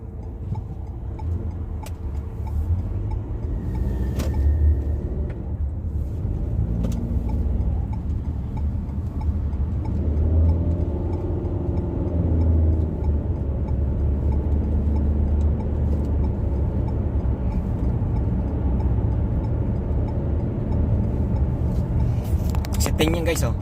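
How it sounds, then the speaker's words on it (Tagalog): Road traffic heard from inside a car heading toward the airport on a busy city road, a constant low engine and road rumble that fills the cabin, with a person talking over it throughout. "Traffic pa din guys oh."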